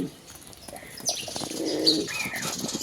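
Spanish pigeons cooing softly nearby, with a brief flutter of wings and light rustling around them.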